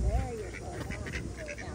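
Ducks quack at an animal park in Niagara, a few short nasal calls partly under a man's and a child's conversation and steady outdoor background noise.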